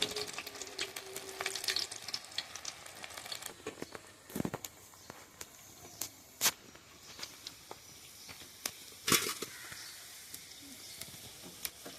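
Cauliflower pieces crackle and sizzle in hot oil for a cauliflower poriyal, with a steady frying hiss broken by sharp pops and a few louder clinks of stirring.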